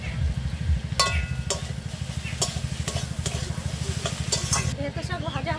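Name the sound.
greens (saag) frying in a pan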